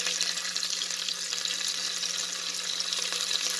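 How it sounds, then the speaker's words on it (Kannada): Onions sizzle and fry in hot oil in a pan, a steady dense crackling hiss that runs throughout, close and fairly loud, with no voices over it. "ನೋಡಿ, ಆನಿಯನ್ ಇವಾಗ ನಮಗೆ ಅರ್ಧದಷ್ಟು ಫ್ರೈ ಆಗಿದೆ."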